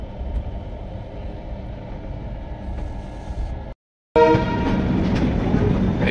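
The 12246 SMVT Duronto train rolls into Kharagpur station, heard as a steady rumble from inside the train, then after a brief break a louder, brighter run of wheel noise and horn.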